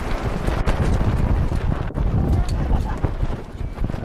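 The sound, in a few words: gust of wind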